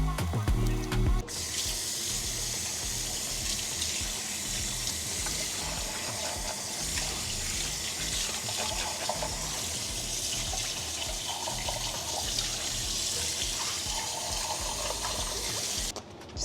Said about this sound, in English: Some soap in there, some water, and I just rub it away.